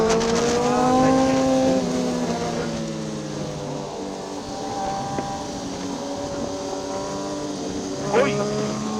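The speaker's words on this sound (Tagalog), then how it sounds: "Ay, may motor na." A motorcycle's engine whines on a downhill mountain road, its pitch sliding through gear changes, loud and close; another engine surges past near the end under brief voices. A Yamaha MT-09 and a Suzuki GSX-R1000 are riding the route.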